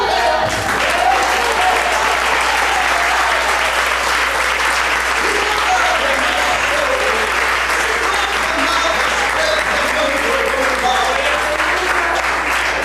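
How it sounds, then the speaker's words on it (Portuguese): Church congregation applauding at a sermon: dense, steady clapping from a large crowd, loud and sustained throughout with no break, a low hum running underneath. "Aplauda!"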